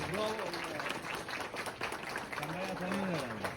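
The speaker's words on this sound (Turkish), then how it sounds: "Öztekin'i güçlü bir alkışlıyoruz." Broadband crowd applause welcoming Öztekin at a village gathering in Akpınar, Akseki, Koyulhisar, Sivas, steady and dense, with a voice calling out over it.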